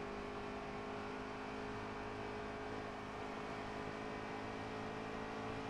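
Racing truck in NASCAR Heat 3 at Dover, a steady droning engine and tire roar on track with constant tonal hum, even and unbroken, fairly quiet and with no talk.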